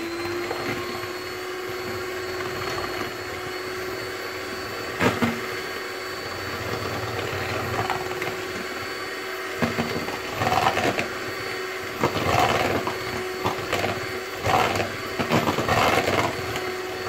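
Electric mixer beating sugar and starch, a steady motor whir running throughout with a constant tonal hum and occasional louder scraping bursts as the beaters work the mixture; no talking.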